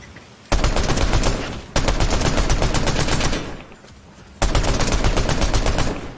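Assault rifle fire in a video game, long loud sustained bursts of rapid shots broken by brief gaps, close and dense with no talk.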